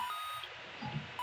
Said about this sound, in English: And the X-Transceiver is ringing.